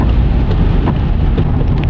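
Steady, dense rain noise in the Rio Grande Valley with a low rumbling undertone, loud and continuous throughout, no voices.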